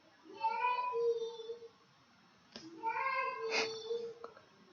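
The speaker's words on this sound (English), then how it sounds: "I hear my son calling me in the background." A child calls out twice in a high, drawn-out voice from somewhere away from the microphone, faint and separated by a short pause, with no other talk.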